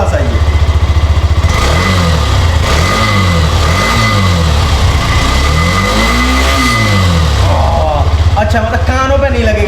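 A Hero Xtreme 125R motorcycle engine blips and revs repeatedly up close, its exhaust giving a rising-and-falling thump with several short throttle sweeps, while someone talks over it.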